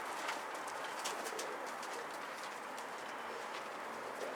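Soft sounds of a milk-white pigeon over a steady broadband background hiss, with faint fluttering or scratchy bursts scattered throughout.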